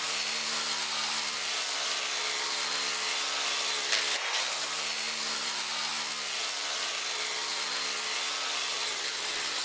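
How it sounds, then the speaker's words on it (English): A power sander grinds steadily on a bird's eye maple mandolin neck in a workshop, a loud constant whirring roar with a brief bump in pitch midway. "we're just going to turn the sander loose, that big old wood hog"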